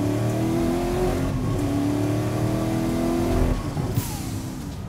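A twin-turbo Audi R8 widebody engine revs loudly and continuously, holding a high droning pitch that climbs and then drops off near the end, close by with no talk.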